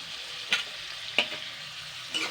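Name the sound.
onion, tomato and green chili frying, being stirred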